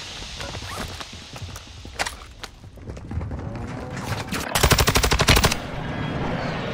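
Gunfire in the Warzone 2.0 video game, set on Ashika Island: scattered single shots give way to a loud, fast automatic burst near the end, over a steady background din.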